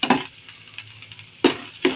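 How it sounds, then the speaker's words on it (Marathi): Onion, capsicum and carrot are stirred in a hot pan, giving a soft sizzle broken by sharp scraping clinks of a spoon against the pan at the start and again near the end. "कांदा भाजायचा, शिमला मिरची भाजायची, गाजर टाकायचं, गाजर भाजायचं"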